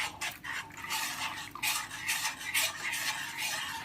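Cornflour paste is stirred into chutney in a pan. A spoon scrapes and swishes against the pan in quick, irregular strokes, close and fairly soft, with no talk.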